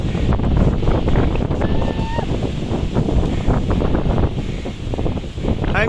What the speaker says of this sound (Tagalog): Grabe ang hangin yan. Galit na galit.